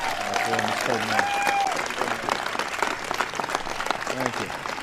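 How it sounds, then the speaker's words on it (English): Big round of applause for Peyton Manning at a White House event honoring the Super Bowl champion Denver Broncos, loud continuous clapping with voices talking over it. "So please give a big round of applause for Mr. Peyton Manning."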